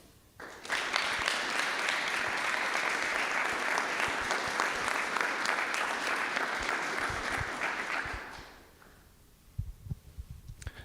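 Banquet audience at a SigEp Balanced Man Scholarship event applauding to welcome a presenter, sustained full-room clapping for about eight seconds that fades out, followed by faint room noise and a few bumps.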